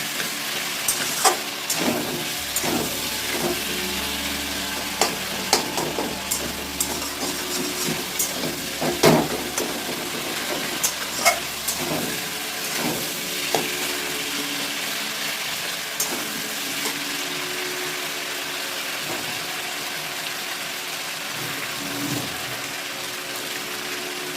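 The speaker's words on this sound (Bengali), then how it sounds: "রসুন টমেটোর সঙ্গে ভালো করে ভাজা ভাজা করে নেবো" Potatoes, tomatoes and small garlic cloves frying together for a pangas fish curry: a continuous bubbling sizzle with frequent spatula taps and scrapes through the middle, fading to a steadier hiss toward the end, with no talking.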